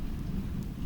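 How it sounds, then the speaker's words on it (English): Steady soft rain falling on a slow riverboat and the river water below, a continuous low, even wash with no distinct drops standing out. "Two sounds moving together, the rain above and the water below,"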